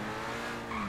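A Lamborghini sports car in the GTA video game drives off with a steady, loud engine drone that rises slightly at the end, heard briefly and close with no talking.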